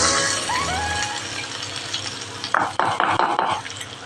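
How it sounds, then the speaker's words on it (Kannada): A tempering for horseradish chutney sizzles in a small pan, a steady hiss with a faint whistle-like tone early on, then a run of sharp metal clinks and scrapes near the end. "ಅದಕ್ಕೆ ಒಗ್ಗರಣೆ ಹಾಕ್ತಾಯಿದ್ದೀನಿ."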